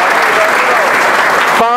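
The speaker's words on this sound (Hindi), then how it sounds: "ताली जोरदार तरीके से बजाते रहो।" Loud, dense clapping from an audience at a coaching institute's prize distribution, filling the moment evenly; a voice cuts in sharply at the very end.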